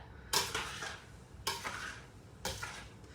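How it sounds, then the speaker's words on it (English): Vegetables for homemade dog food are stirred in a pot, three distinct bursts of a utensil scraping and knocking against the cookware, spaced about a second apart, close up with quiet gaps between. "The veggies are stirring"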